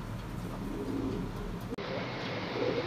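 Young racing pigeons coo together in a loft on a windy day, a low continuous murmur of overlapping coos that is steady and close, broken by a brief click partway through.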